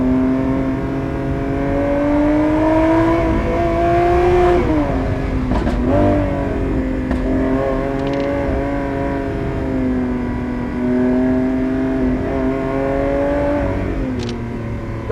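A 2022 Lamborghini Aventador SVJ Roadster engine drones loudly and close, revving up and easing back repeatedly with a strong whining tone that rises and falls.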